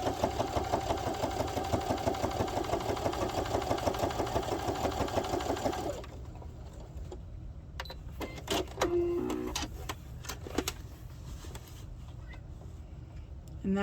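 Sewing machine running steadily and loudly while top stitching a child's fabric wallet about a millimeter from the edge, then stopping abruptly partway, leaving quiet handling clicks and faint rustles.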